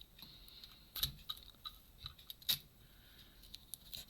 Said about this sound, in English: I'm going to get my scissors that I only use to cut with ribbon, and I'll cut that.